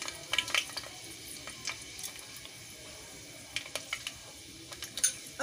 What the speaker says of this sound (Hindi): ये मेथी चटक रही है ना